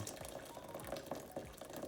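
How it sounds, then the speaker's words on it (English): Hot water is poured over black tea for milk chai, a quiet trickling, bubbling stream with small gurgles and splashes, close by and alone. "I'm just gonna fill it up, pour in there"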